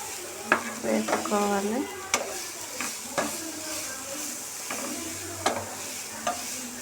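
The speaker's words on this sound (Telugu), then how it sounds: "ఇట్లా వేయించుకోవాలి ఫ్రెండ్స్. సిమ్లోనే పెట్టి బాగా పచ్చివాసన పోయేంత వరకు" Carrot and grated coconut fry in ghee in a pan over a low flame for carrot coconut laddu, with steady sizzling and a few sharp spatula scrapes under a speaking voice.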